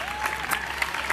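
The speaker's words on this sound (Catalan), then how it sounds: "Doncs un aplaudiment" A television studio audience applauds at a show about lacemakers, a dense wash of clapping hands at moderate volume that continues steadily with no one speaking over it.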